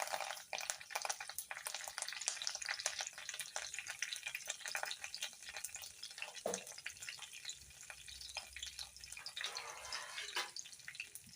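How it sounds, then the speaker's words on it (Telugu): Onion and coconut pieces fry in oil with dried red chillies and curry leaves, giving a steady crackling sizzle with scattered pops and scraping stirs throughout. "ఉల్లిపాయ ముక్కలతో పాటే కొబ్బరి ముక్కలు కూడా బాగా వేగాలన్నమాట ఆయిల్లోనే"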